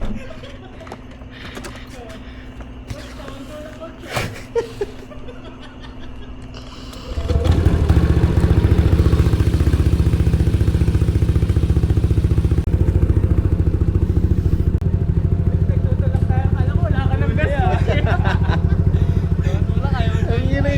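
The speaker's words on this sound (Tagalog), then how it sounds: "Ang ingay ng motor eh." A motorcycle engine starts up partway through and keeps running loud and steady, rumbling close by after a quieter stretch with faint voices and clatter.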